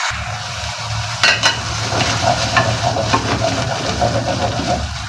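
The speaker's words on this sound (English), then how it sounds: "Let the tomatoes cook until it forms a paste." Tomatoes cook down into a paste in a pan, with a steady low sizzle and bubbling, plus occasional stirring scrapes and a couple of sharp utensil clinks near the start.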